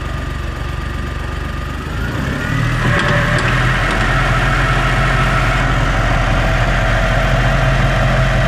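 A 2019 Prowler Pro side-by-side with a clutch conversion runs in gear, its engine holding a steady, loud drone that steps up slightly in pitch and strength after a couple of seconds, with no voices.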